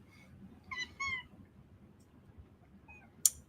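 A pet cat gives a few short, quiet meows close by in a calm room: a faint early one, a pair in quick succession, then a last soft meow followed by a brief sharp click.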